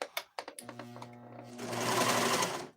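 A Singer sewing machine starts with a few clacks, then settles into a steady mechanical whir that builds in loudness, close by and with no voices.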